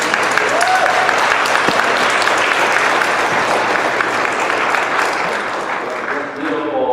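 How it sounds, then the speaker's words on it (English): An audience gives a sustained round of applause, dense clapping that fills the space loudly and evenly for several seconds before briefly dipping near the end, with voices mixed in. "Let's give a big round of applause."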